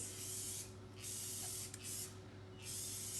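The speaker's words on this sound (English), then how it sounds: "use your favorite cooking spray or a light olive oil spray to spray the inside of it" Cooking spray or light olive oil spray hissing inside a loaf tin, three sustained bursts separated by short pauses, close and fairly quiet with no voice over it.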